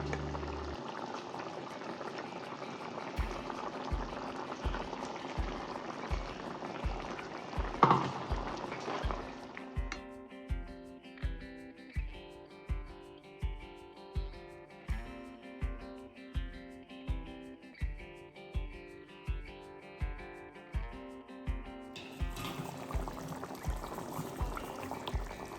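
A pot of bitter gourd theeyal, a curry with ground coconut and asafoetida, bubbles and spits steadily on the stove. A soft rhythmic thumping pulses beneath the simmer, which stays close and fairly quiet, with no talking.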